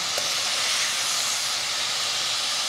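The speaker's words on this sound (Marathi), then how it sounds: "आता ही कोळंबी मी 2 बॅचेसमध्ये फ्राय करून घेणार आहे." Prawns frying in a pan for a spicy prawn masala give a steady, dense hiss of sizzling oil that stays loud and even throughout, with no voices.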